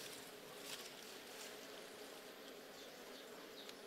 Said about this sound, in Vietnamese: Chú bắt đầu mở cái nắp đằng sau cho ong nó ra.